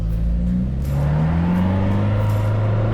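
A Hyundai iLoad turbo diesel van revs on a brake dyno, with a rising, sliding engine drone that climbs in pitch over a few seconds, loud and close and without talk.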